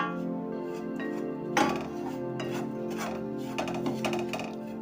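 Roasted poppy seeds and gram flour are mixed in a pan with oil off the heat, giving close scraping and rasping strokes of a spoon on metal, one sharp clank early and lighter clinks after.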